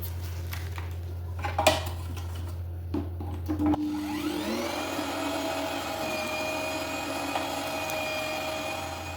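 Electric meat grinder mincing meat through its smallest grate for homemade sausages: clatter and a few knocks at first, then the motor whirs up into a steady, close mechanical hum that holds to the end, no talking.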